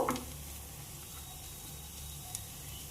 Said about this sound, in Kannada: ಮಸಾಲೆ ಮಾವಿನಕಾಯಿ ಹಾಕಿದ ಬಳಕ ಒಂದು 2 ರಿಂದ 3 ನಿಮಿಷ ಇದನ್ನು ಹುರ್ಕೋಬೇಕು.